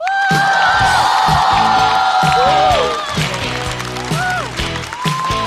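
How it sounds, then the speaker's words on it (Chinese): Loud studio audience applause and cheering for a stand-up comedy show, a dense sustained roar of clapping and whoops that swells, then tapers while a voice speaks over it. "掌声欢迎"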